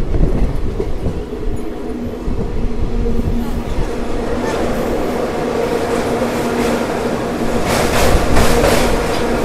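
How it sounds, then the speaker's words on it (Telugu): Simhadri Express passenger train under way after leaving Narsipatnam Road, heard from inside as a steady, close rumble with continuous rail clatter and wheel noise that swells slightly toward the end. "సో మన ట్రైన్ వచ్చేసి నర్సీపట్నం రోడ్ నుంచి అయితే బయలుదేరిపోయింది."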